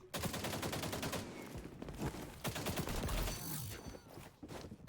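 Sustained automatic gunfire fills an XDefiant match, dense rapid shots and overlapping bursts continuing almost without pause, loud and close throughout.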